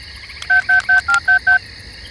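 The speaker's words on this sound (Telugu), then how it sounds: "ఆగు, ఫోన్ చేసి చెప్తా, లేకపోతే కుళ్ళుకుంటాడు." A phone being dialed, six short evenly spaced keypad tones beeping loud and close, with no voices.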